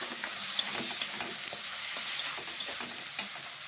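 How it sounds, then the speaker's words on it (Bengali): Tomato and spice masala with ground coriander and turmeric frying in oil while being stirred, giving a steady close sizzle with light utensil scrapes and a couple of sharper taps, and no voice. "ভালোভাবে কষিয়ে নিচ্ছি। টমেটোটাকে একদম জ্বালিয়ে দেবো।"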